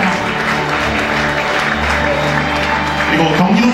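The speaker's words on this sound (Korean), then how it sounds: "박수 부탁드립니다" Loud, continuous applause from the audience at a football association award ceremony in Korea, a thick wash of clapping that runs throughout, with a voice faintly audible underneath.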